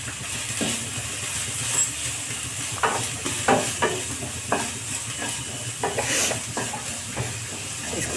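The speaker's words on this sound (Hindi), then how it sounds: "इसको चला चला के फ्राई कर लेंगे। प्याज फ्राई हो गया है" Onions fry in a hot pan while being stirred for a green peas ghugni breakfast dish, with a constant sizzle and hiss punctuated by repeated scraping and clanking strokes of the spoon.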